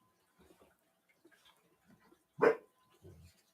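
A single muffled dog bark stands out from a quiet background, followed by a softer low woof and faint scattered noises.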